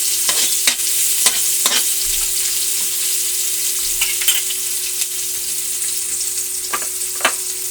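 Pork meat sautéing with garlic and onion in a hot pan gives a bright, continuous sizzle with repeated scraping stirs of a spatula, close and steady with no talking.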